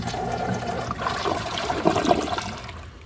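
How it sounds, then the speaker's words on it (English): A 1996 Crane Hymont toilet, rim jets freshly cleared, flushes with a strong rushing swirl of water that builds, peaks near the end and then tapers into a draining trickle, close and alone. "It actually flushed really well for that too."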